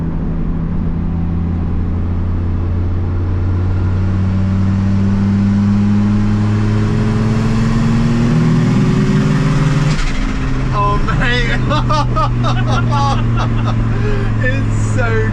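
An Audi B5 S4 fitted with a swapped AAN 5-cylinder engine, droning steadily under load while driving and climbing in pitch through the gears, loud and close, with people talking over it near the end.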